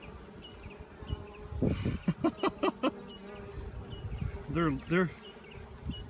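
A honey bee swarm being scooped at an old head gate and post hums with a steady close buzz, broken by bursts of louder bee noise and brief chatter as a voice speaks.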